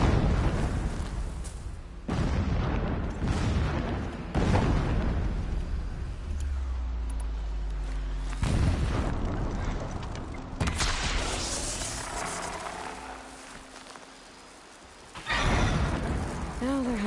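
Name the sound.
distant explosions in a video game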